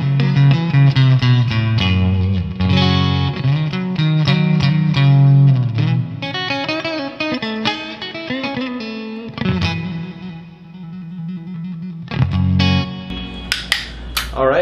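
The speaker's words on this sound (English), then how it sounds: "And then the neck pickup, which has a nice sort of hollow sound." A clean PRS SC 245 electric guitar on its neck pickup, with a warm, hollow tone, plays chords and single notes, ringing with light effects and reverb, steady and close.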